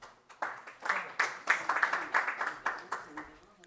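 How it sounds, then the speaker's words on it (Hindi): Audience applause at a Hindi-Urdu poetry gathering, a kavi sammelan, heard as a run of distinct, fairly close hand claps in an uneven rhythm that swells and fades, with faint voices underneath. "एक बार ज़ोरदार तालियां।"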